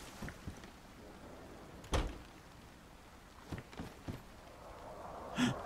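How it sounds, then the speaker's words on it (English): Door closing in DayZ: a single sharp thud against quiet surroundings, with a few softer knocks and bumps afterward. "we're going to go in here and close the door"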